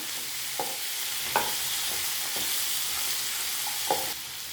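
Boiled jackfruit seeds are mixed into a frying tomato masala, under a bright, constant sizzle with a handful of spaced spoon scrapes and taps.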